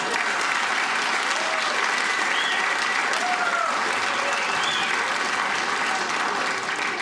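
Sustained, dense applause from a comedy club audience for a stand-up comedian, loud and steady throughout with scattered whoops rising above the clapping.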